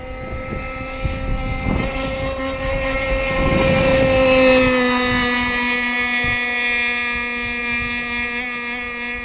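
A ZippKits Vbox gas-powered RC boat hull races across water, its small engine whining in steady tones that rise and fall as it passes, the high buzz lasting the whole stretch at moderate distance.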